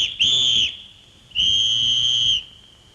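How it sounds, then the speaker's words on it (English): Two shrill, sustained whistle blasts, each lasting about half a second to a second with a short gap between, loud and close with no talking. "Mr. Bustle put the whistle to his lips."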